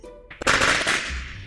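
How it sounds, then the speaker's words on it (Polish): Firecrackers in the Minecraft video game go off in a quick rattling burst, loud and close, after a short fizzing lead-in, with no talk. "Ej, tak petardy!"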